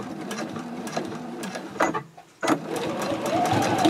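A sewing machine topstitching a zipper case runs in a steady, close mechanical whir and hum, with a brief pause partway through before it starts again.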